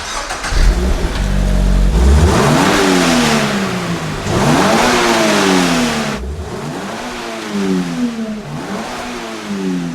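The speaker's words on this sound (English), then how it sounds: "let's give it a quick rev and see what it sounds like." A loud Toyota GR86 sports car engine revs hard three times, each rise in pitch followed by a drop back toward idle, close up.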